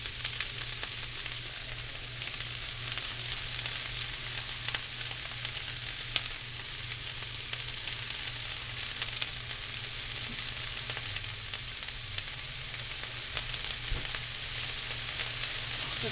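Beef and vegetables sizzle in a hot stir-fry pan, a steady, close crackling hiss that runs unbroken throughout with a few faint clicks of stirring and no voices.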